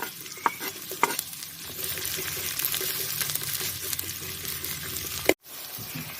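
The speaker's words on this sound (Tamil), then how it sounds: "எண்ணெய் சூடாகிடுச்சு. கொஞ்சம் ஆனியனை போட்டுக்கோம்." Chopped onions sizzle and crackle steadily in hot oil in a pan, with stirring clatters and scrapes throughout and a sharp knock near the end before the sizzle cuts off.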